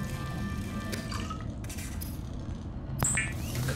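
Subnautica fabricator processing a bladderfish into water, in-game sounds of soft liquid drips and glassy clinks over a low background hum, ending with a brighter whooshing chime.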